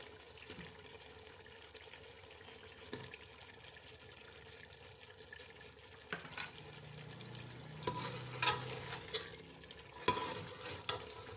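Chicken and cut potatoes frying together in a pan, a faint steady sizzle with scraping stirs that grow louder and busier toward the end, no talk.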